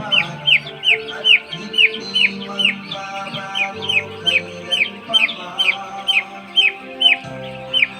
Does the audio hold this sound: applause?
no